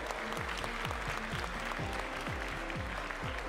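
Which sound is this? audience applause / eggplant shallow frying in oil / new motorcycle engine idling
audience applause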